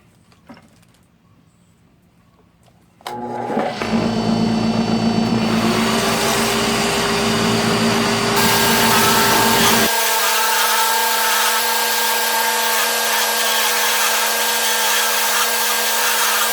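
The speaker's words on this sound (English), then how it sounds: "He's running the shop vac, trying to keep things a little clean" A shop vac starts up in a wood shop, beside a first pen being turned, and its loud, steady drone holds after a sudden start, with the pitch shifting partway through.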